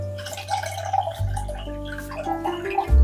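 Egg batter mixture thinned with water being strained through a sieve, giving a steady wet trickling and pouring with splashy liquid sounds, close and fairly loud, with no talk.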